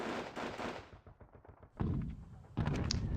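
Mortar rounds firing in the wargame Panzer Battles Kursk, Southern Flank: a loud burst of gunfire, then a softer rattling stretch, then two more heavy, close blasts in quick succession.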